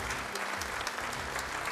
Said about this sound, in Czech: Dámy a pánové, přidejte na potlesku.